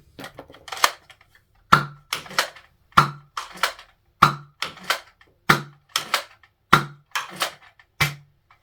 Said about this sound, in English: Just firing some of the green and cool colored tipped Nerf Elite darts.